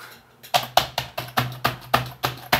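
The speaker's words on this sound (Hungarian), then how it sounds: "Ezt halljátok, ez a billentyű hangja." Key presses on a computer keyboard during a SteamOS system freeze, about ten sharp, evenly spaced clicks in a steady rhythm, close and fairly quiet, with no talking.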